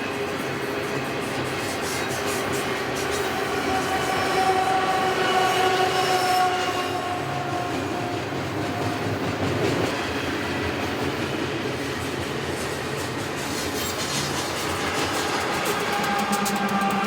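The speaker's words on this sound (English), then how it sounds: "An eastbound double-stack train made its way through the canyon on Track 2." Eastbound double-stack freight train with mid-train and rear distributed power rolling through a canyon near Kingman, Arizona, a steady, loud rumble of railcars and wheels with faint squeal, continuous for the whole stretch and no voices.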